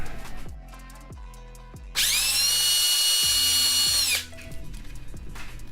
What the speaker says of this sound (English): I gotta drill this back one out.